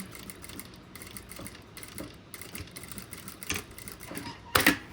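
Sewing machine slowly stitching crystal plastic for a document holder, a soft steady mechanical whir with faint needle ticks and a sharper clack near the end.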